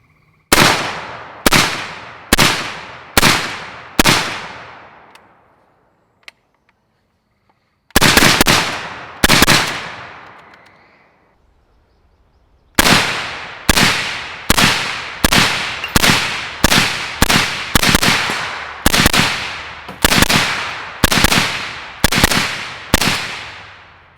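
LMT ION 30 rifle fired in loud, sharp cracks, five in quick succession, a pause, then a pair, then a long rapid string of about fifteen shots, each followed by a short echoing decay outdoors.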